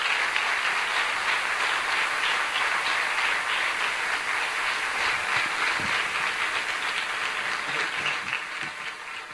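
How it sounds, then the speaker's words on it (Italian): An audience applauds steadily and densely to welcome a speaker at a public talk, the clapping sustained throughout and tapering off slightly toward the end. "Salutiamo Ettore Squillace Greco con un grande applauso"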